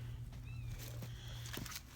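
A cat lets out a faint, short meow or two from somewhere below, outdoors on a wintry cattle farm at hay-feeding time, amid soft background shuffling and a low hum.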